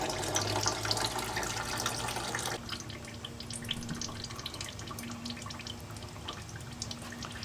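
Engine oil streams steadily out of the drain plug hole of a 2015 Honda Civic, a continuous close liquid pour and trickle that thins a little partway through, with no talk over it.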